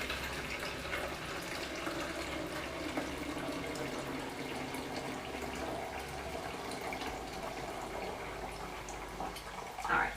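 A countertop hot water dispenser fills a cup with a soft, steady trickle of running water, faint and continuous throughout, ending with a small clunk.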